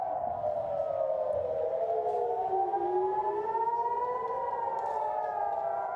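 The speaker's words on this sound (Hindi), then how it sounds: "air red siren" An air raid siren wails over the city during an Iranian missile attack on Tel Aviv, its tone rising and falling steadily and loud throughout, with layered harmonics and a constant noisy background.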